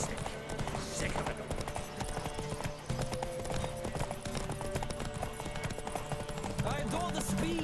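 Horses gallop in a race in the video game The Witcher 3: Wild Hunt, hooves drumming in a quick steady clip-clop with a whinny near the end, set against music and ambient game sound.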